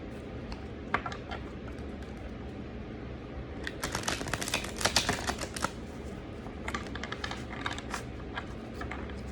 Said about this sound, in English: I've already shuffled the cards, but I'm going to go ahead and do it 3 more times